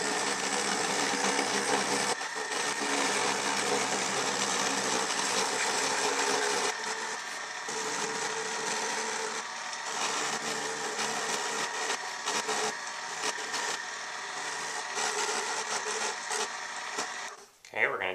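A loud, continuous power-tool whine as a sound hole is roughly cut into a cigar box guitar's wooden lid without a router, running steadily and close, with brief dips before stopping near the end; speech is faintly present underneath.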